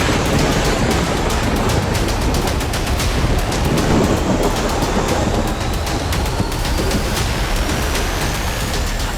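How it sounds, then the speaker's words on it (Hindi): Thunder from storm clouds over Dehradun city rolls as a loud, continuous rumbling roar with dense hiss and crackle, sustained without a break. "देहरादून शहर के ऊपर दहाड़ते गरजते बादलों का ये मंजर प्रकृति के क्रोध का सबूत तो नहीं है।"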